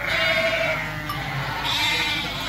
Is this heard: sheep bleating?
yes